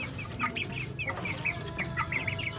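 Chickens cluck repeatedly inside a coop, a busy, close flock with overlapping short calls and a low background hum.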